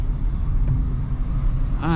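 Road traffic rumbles steadily close by, a continuous low engine and tyre drone from cars and larger vehicles, with a voice briefly heard near the end.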